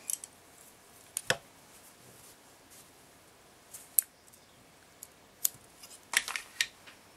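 Scissors snip the ends off feathers while making earrings, giving a handful of small, sharp isolated cuts spread across a quiet room, close and soft.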